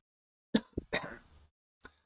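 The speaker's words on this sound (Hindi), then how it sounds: "सॉरी, थोड़ा खांसी हो गया है बच्चों" A teacher coughs a few times in a quiet room, a sharp close burst followed by rougher hacking and a final small cough, with no talking.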